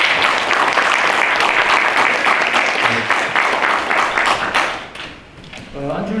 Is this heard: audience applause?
yes